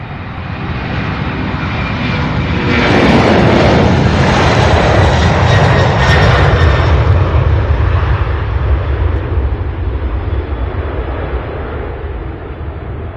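An MD-11 heavy jet at Louisville International Airport roars loudly, its engine noise building over the first few seconds to a sustained powerful rumble before easing slightly, heard close and alone without talk.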